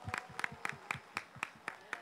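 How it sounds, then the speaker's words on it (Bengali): Rhythmic clapping from a fair audience, quiet and fairly distant, with evenly spaced claps about four per second and no voices over them. "তাদের জন্য আমি একটা জোরে হাততালি দিতে চাই।"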